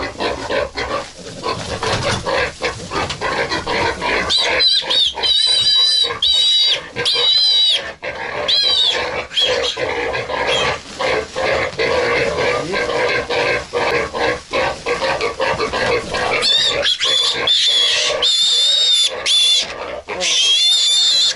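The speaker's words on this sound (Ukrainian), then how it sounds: "нам потрібні свинка і кабань" Pigs, a sow and a boar among them, grunt and squeal almost continuously on a snowy pig farm, loud and close, with snorts and high-pitched squeals rising at intervals.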